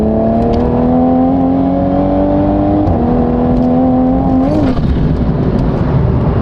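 A previously blown-up BMW M4 accelerates on a road, and its engine drone climbs steadily and loudly. The tone drops briefly at two gear changes, with no talk over it.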